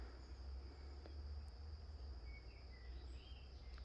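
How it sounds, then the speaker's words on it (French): Cicadas sing on a hot summer day as one faint, continuous high-pitched drone. The sound is distant and steady, with no voices over it. "Ça fait 15 jours qu'elles chantent, les cigales."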